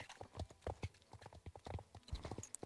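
Horse hooves from the video game Star Stable Online pound in a quick, steady galloping clip-clop rhythm, close and distinct, with no voices over them.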